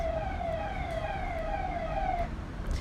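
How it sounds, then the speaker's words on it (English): An emergency vehicle siren passing by outdoors, a steady wailing tone at moderate distance over background traffic rumble, fading out after a couple of seconds. "With that siren that just passed by"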